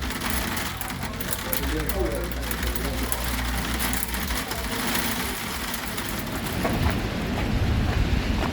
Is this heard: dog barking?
no